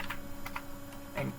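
Go code being typed on a computer keyboard: a short run of a few light, close keystrokes, irregularly spaced, over a steady low electrical hum.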